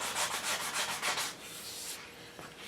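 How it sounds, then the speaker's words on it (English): A foam sanding block with 120 grit paper rubs by hand over an English walnut gunstock, giving close, rhythmic scratchy strokes in quick succession that soften into a lighter, smoother rasp. "I just try to do as much as I can with this sanding block."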